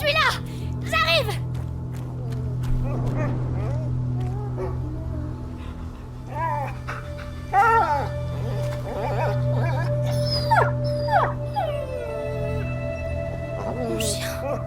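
Dog in A Plague Tale: Innocence, heard as repeated whimpering, yelping calls over a steady low game ambience, some cries fairly close and others fainter.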